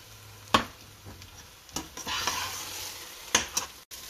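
Onion and garlic frying in a pan: a steady soft sizzle under a few sharp clinks and scrapes of a spoon stirring against the pan, close and fairly quiet.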